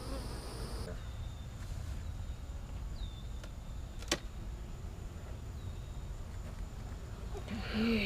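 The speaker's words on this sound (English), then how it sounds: "Jeez, look at the bees." Honey bees buzzing around a hive on a hot day in South Georgia, a steady close drone of many insects with brief louder passes near the microphone, no talking.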